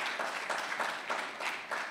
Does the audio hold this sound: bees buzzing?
no